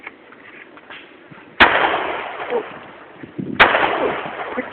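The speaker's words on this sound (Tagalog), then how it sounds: "Firing." A Norinco NP44 .45 ACP high-capacity pistol fires two loud, sharp shots about two seconds apart, each with a long ringing tail over faint background noise.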